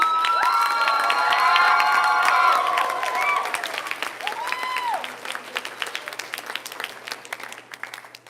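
Concert audience at a high school fall choral concert breaking into loud applause and cheering with shouts, fading after about three seconds into scattered clapping and crowd murmur.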